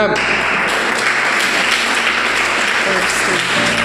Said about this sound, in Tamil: இயேசு கை தட்டுங்க